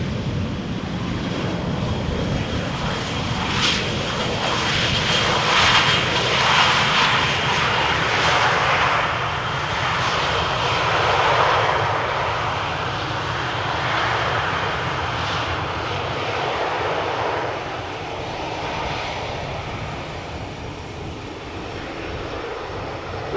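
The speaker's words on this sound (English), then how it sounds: "We have an Embraer 175 coming in and then a Dreamliner." Jet airliners, an Embraer 175 followed by a Boeing Dreamliner, arrive at Schiphol airport in the Netherlands during a rain shower, a steady loud engine roar sustained throughout with a wind-like rushing wash of rain and air.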